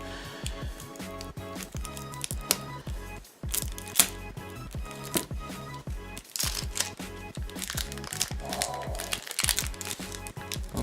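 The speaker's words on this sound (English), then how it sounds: "I'm going to start by taking off the plastic that is covering these cards." Plastic wrap being peeled off a deck of playing cards, with close, continuous crinkling and crackling and a few brief pauses.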